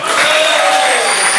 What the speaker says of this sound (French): On vous applaudit, bravo.